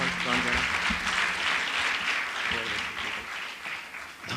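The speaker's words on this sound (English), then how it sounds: "Please give him a big round of applause, Mr. and Mrs. Atul and Lata Shah." An audience at a silver jubilee gala in a temple auditorium applauds steadily, with voices underneath the clapping.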